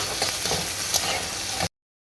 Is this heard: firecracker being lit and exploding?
no